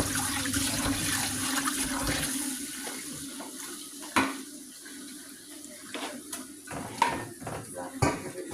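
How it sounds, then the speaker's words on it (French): Rice for a rice pudding dish is washed by hand in water in a pot, with continuous sloshing and splashing plus a few sharper knocks and clinks, close by. "Nous allons laver le riz."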